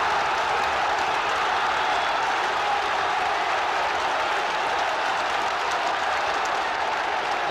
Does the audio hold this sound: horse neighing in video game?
no